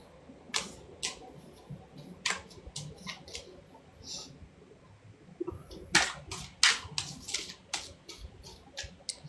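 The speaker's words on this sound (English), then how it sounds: "I just shuffle them until Spirit decides to throw one out" A deck of White Light oracle cards being shuffled by hand, giving bursts of crisp riffling clicks and slaps at irregular intervals, close and fairly quiet against a soft room background.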